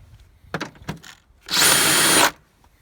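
A power tool whirs loudly for under a second, spinning out the bolts of a car's battery box during a home clutch replacement, after a few faint knocks and clatters.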